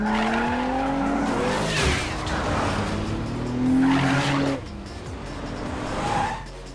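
In GTA Online, a car's engine roars while tires squeal and skid repeatedly as it rams another vehicle off a race track, loud and continuous, with squeals rising and fading in several bursts.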